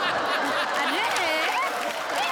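Audience at a comedy show's award presentation claps loudly as a crowd while voices and laughter carry through the applause.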